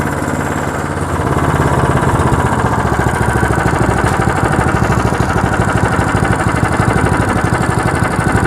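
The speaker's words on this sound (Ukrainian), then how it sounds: "Вейма, як завжди, дивує, заводиться з першого разу, максимум з другого." A Weima 177F single-cylinder engine on a walk-behind tractor catches and settles into a steady, loud, close-up chugging run, its rapid even firing pulses continuing without pause.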